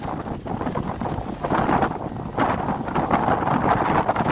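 Strong wind buffeting the microphone on a ferry crossing, a loud gusty roar that rises and falls, with boat and water noise underneath.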